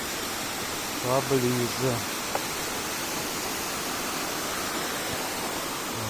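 A river rushes near the Ijen volcano in Indonesia, a steady broadband wash of flowing water that fills the whole stretch. A voice speaks briefly near the start over the constant flow.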